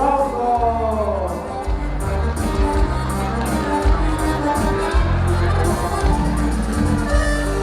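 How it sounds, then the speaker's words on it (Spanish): Wedding guests cheer and shout for the newly married couple, with a lively crowd roar, sharp claps and whoops over booming background music, close and loud throughout. "Y que se escuche fuerte, fuerte los aplausos."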